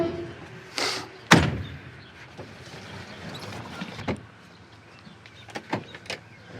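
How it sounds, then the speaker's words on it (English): Sounds from a 1968 Chevrolet Impala with no talking: a sharp door-like thunk, then softer clicks and a few short mechanical whirs and bumps of the windows rolling up, close by, with quiet background hiss between them. "You can go ahead and roll the windows up, Dalton."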